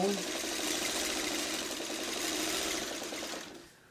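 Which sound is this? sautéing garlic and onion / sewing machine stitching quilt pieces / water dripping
sewing machine stitching quilt pieces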